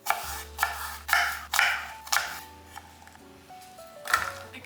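A knife cuts apples into small cubes on a board, giving a series of crisp, close chopping strokes at an uneven pace, with short pauses between them.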